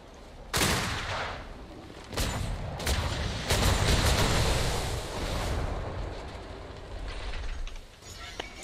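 Rapid booming cannon blasts from a game, a few separate shots and then a dense, sustained volley, loud and rumbling with a wash of noise.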